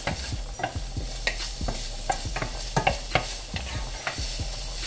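Sausage sizzles in a hot pan while a utensil stirs it, scraping and clacking in irregular bursts over a constant frying hiss, close up with no talk.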